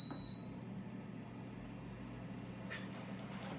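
A Power XL air fryer gives a short, high electronic beep as start is pressed, then its fan settles into a steady low hum for the rest of the moment.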